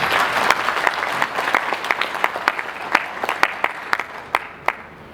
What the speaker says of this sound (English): Let's appreciate the team with a nice clap.